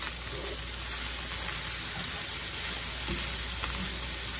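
Meat pie filling with frozen peas and carrots is stirred in a hot pan, giving a continuous close sizzle with soft scraping and occasional utensil taps.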